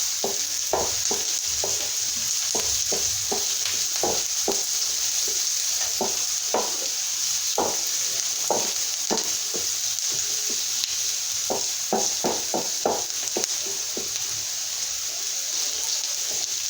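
Vegetables frying in a pan for an omelet, a steady loud sizzle running throughout with repeated stirring scrapes and taps of a utensil, no voices present.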